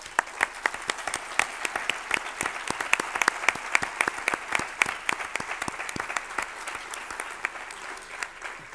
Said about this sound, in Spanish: les pido a todos ustedes un aplauso de gratitud por los sacerdotes